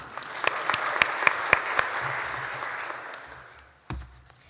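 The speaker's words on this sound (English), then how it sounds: "Let's give her a round of applause." A small audience at a partnership presentation claps warmly with a few sharp, prominent near claps, then the applause tapers off over about three seconds before a soft thump and quiet.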